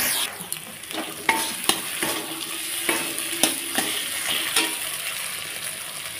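Spices with turmeric and tomato frying in a pan, a steady sizzle broken by repeated sharp knocks and scrapes of a spoon stirring against the pan, close and fairly loud without speech.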